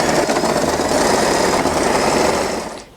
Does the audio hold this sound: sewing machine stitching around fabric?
yes